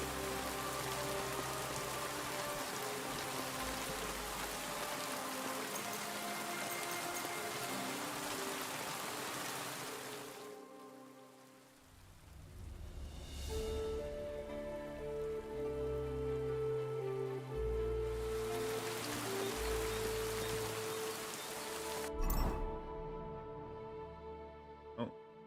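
Steady rain pours continuously in the video game Kingdom Come: Deliverance II, briefly dropping away before returning as a dense hiss with a low tonal hum beneath it.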